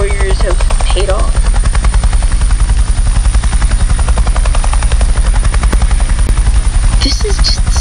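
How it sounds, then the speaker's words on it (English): A fast army helicopter flies in a video game, its rotor thumping in a loud, steady, close roar that fills the whole stretch without letup. "this is actually the fastest helicopter in the army or the world"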